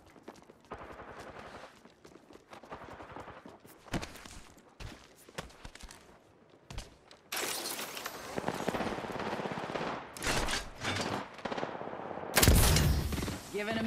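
Rapid gunfire from the battle-royale shooter Apex Legends, with bursts of automatic weapon fire and single shots growing louder and denser through the second half, plus a loud close blast near the end.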